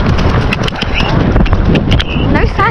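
A horse canters along an outdoor trail, its hooves thudding rhythmically under strong wind noise, with a rider speaking and some short squeaky tack or breath sounds close to the microphone.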